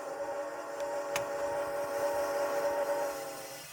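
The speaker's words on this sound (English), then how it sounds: "Press the B button and just blast the whistle for a little." A Berkshire steam locomotive whistle in the Train Sim 2 video game blows one long steady tone for about three seconds, then fades, with low rumbling of the train underneath.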